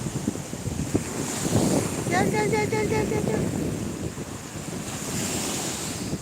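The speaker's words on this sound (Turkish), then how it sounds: "bayılıyorum bu dalgayla oynamaya." Ocean waves break and wash steadily along a shore, a broad continuous surf roar with wind across the microphone, while a person calls out repeatedly partway through.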